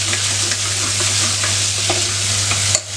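Tomato with ginger and garlic sautés in a pan for mutton kurma, giving a loud, steady sizzle with occasional stirring scrapes and a low hum underneath. The sizzle cuts off abruptly near the end.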